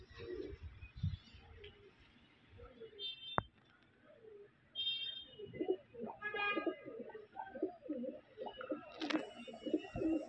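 Pigeons cooing and flapping as they are let go, with a sharp clap and rustling; a voice talks briefly in the background.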